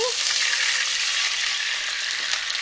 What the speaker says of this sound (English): Now you're going to want to sort of step back because it's going to splatter.